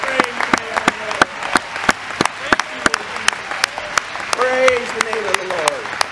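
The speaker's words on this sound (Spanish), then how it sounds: "Vamos a darle un gran aplauso para Él." A church congregation at a Spanish-language service applauds with loud, scattered individual claps. Voices are heard throughout, rising in exclamations partway through.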